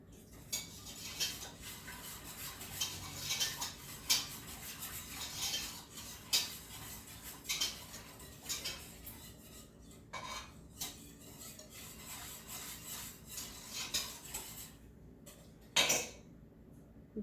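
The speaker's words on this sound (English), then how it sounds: "we're gonna put the cheese into the saucepan and we're gonna stir again" A spoon stirs cheese and macaroni in a saucepan, giving steady scraping and clinking strokes against the metal that continue through the whole stretch, close and fairly quiet, with no talking.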